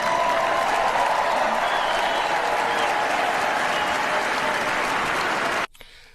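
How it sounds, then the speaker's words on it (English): A crowd at a political speech claps and applauds in a dense, sustained wash of clapping with some cheering mixed in, holding steady for several seconds before cutting off abruptly. "How could you hear all of Trump's constituents clapping, applauding, shouting, cheering her on"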